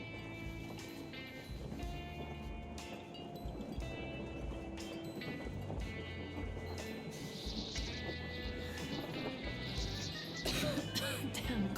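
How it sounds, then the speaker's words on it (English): A character coughs repeatedly in the Metro Exodus video game during a train ride, rough throat-clearing hacks over the constant rumble and clatter of the moving train. "Damn coughing."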